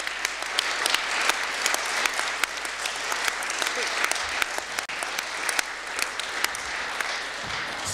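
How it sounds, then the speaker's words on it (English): An audience at a Board of Deputies meeting claps steadily throughout, a dense and even wash of applause with a few sharper claps standing out. "They're giving a big clap."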